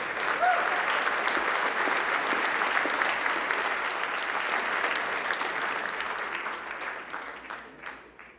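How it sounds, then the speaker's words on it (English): A large audience at the White House Correspondents' dinner gives sustained, loud applause that holds steady for several seconds before thinning out into scattered claps near the end. "But before we do that, Tyler, let's give him another huge round of applause."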